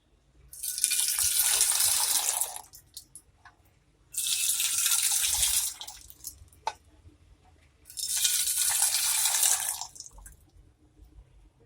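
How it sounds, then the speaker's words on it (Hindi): Hot coffee is poured from a height between two vessels to froth it, three distinct splashy pours of about two seconds each separated by short pauses, close and fairly loud, with no speech. "झाग बनाने के लिए मैंने 2 इस तरह के बर्तन लिए हैं और इस तरह से झाग बनाएंगे"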